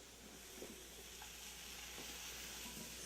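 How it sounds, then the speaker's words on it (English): Softened vegetables for a vegan lentil loaf go into a hot pan, making a steady, even sizzle of frying with faint stirring scrapes underneath and no voices. "And now we're going to add the vegetables."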